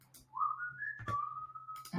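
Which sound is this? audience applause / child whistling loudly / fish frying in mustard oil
child whistling loudly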